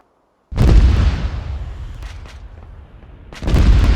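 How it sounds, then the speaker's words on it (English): Artillery shells exploding in the video game ArmA 3: a loud heavy boom with a long rolling rumble, a couple of faint distant thuds, then a second powerful blast. "Take cover. Artillery inbound."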